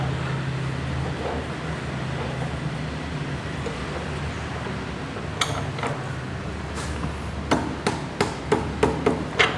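Hammer tapping a workpiece clamped in a milling machine vise to seat its second face flat, about a dozen sharp, close metallic strikes in a quickening series over steady machine-shop background noise.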